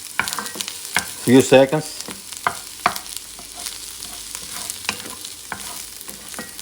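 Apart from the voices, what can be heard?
stirring garlic into mirepoix frying in a pot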